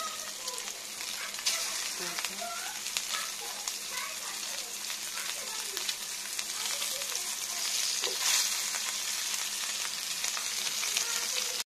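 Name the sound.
fish koftas frying in oil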